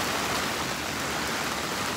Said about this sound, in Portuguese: Isso aqui é uma chuva de verão, ó.